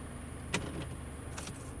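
A person gets out of a parked car on a city street, with a sharp door click or latch near the middle and a second rustle of movement toward the end, over a low steady ambient hum.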